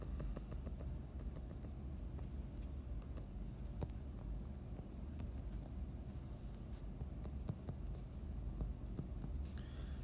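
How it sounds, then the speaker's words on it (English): Calculator buttons tapped while numbers are entered, as a series of quick, light plastic clicks in irregular bursts over a steady background hum. "And we just type this in our calculator."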